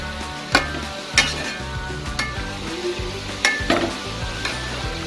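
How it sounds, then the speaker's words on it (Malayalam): Chopped onions with green chilies and salt sauté in a pan for chicken fried rice. They sizzle steadily and loudly, and a spatula strikes and clinks against the pan about six times at an uneven rhythm. "ഈ ഉള്ളി ഒന്ന് പെട്ടെന്നൊന്ന് വഴന്ന് കിട്ടാനായിട്ട് നമ്മൾ ഇച്ചിരി ഉപ്പിട്ട് കൊടുക്കുകയാണ്"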